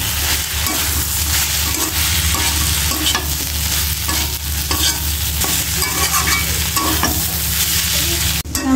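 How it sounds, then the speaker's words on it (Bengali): Fish being stir-fried with vegetables in a pan, a continuous close, loud sizzle with repeated scraping and clacking of the spatula, a low steady hum underneath and a sharp clatter near the end. "মাছটি সবজির সাথে মিশিয়ে নেব।"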